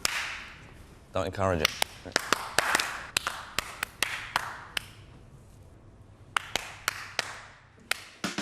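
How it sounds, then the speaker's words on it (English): Sharp, irregular hand claps from a person in an improvisation class ring out one after another, some close together and some spaced apart, crisp and near, with a voice speaking briefly between them. "Stop clapping."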